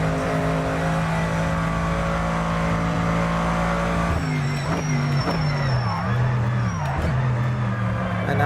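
An old Dodge race car in a GT2 racing game roars at steady high revs, then the pitch drops and swoops under hard braking and gear changes, close and loud throughout.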